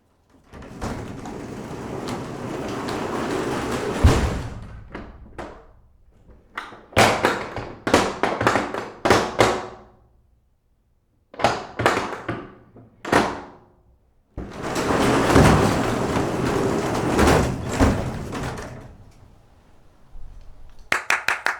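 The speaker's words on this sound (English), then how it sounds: "to the latch and to the door as it rises" A door latch clacks and a rising door rumbles and slides, captured by a field recorder in long loud sweeping runs broken by sharp clunks, thuds and taps, with short silent gaps between bursts.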